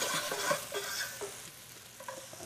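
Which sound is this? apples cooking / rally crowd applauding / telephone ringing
apples cooking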